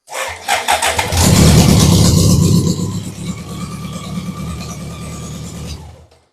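A BMW K100 motorcycle engine cranks and fires up close and loud, then settles into a steady, high idle that continues until the end.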